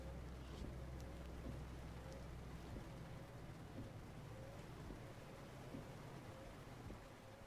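Rain patters steadily in Euro Truck Simulator 2 over the low rumble of a truck engine, a continuous hiss of drops with faint ticks, nearby and moderate in level.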